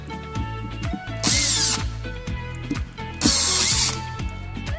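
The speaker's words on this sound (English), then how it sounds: "We're first gonna start removing this axle using a Phillips number 2" A power screwdriver fitted with a Phillips No. 2 bit works on the axle screws of a coffee maker's irrigation motor. It whirs close up in two sustained bursts over a steady mechanical hum, with clicks and knocks between them.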